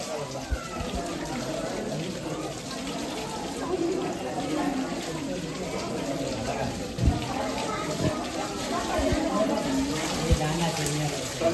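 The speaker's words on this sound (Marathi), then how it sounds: "कुंडातलं पाणी इथे खाली येऊन गौमुखातनं खाली पडतं" Water pours steadily from a cow-mouth spout onto a surface, splashing continuously. The full rushing sound holds at an even level throughout, with faint voices beneath.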